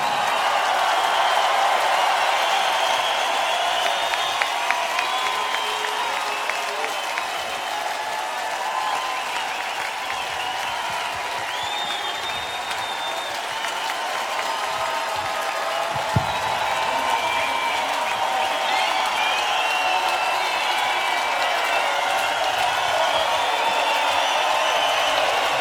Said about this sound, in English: Okay, a huge round of applause,